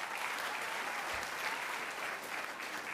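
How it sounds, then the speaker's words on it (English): Steady applause from an audience at a board of education meeting honoring a newly certified member, dense and even throughout with no voices over it. "so maybe a round of applause for Mr. Patel."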